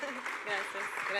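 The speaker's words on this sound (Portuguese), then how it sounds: "un aplauso para ella." Audience applause at a book presentation in Argentina, steady clapping over about a second, moderately loud with voices mixed in.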